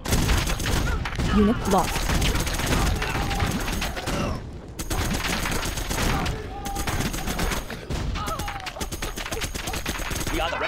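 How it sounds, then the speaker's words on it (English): Minigun fire in the strategy game Contra X Beta, a dense roar of continuous automatic shooting with brief gaps, mixed with battle noise and short voiced unit lines. "Our miniguns will destroy the enemy."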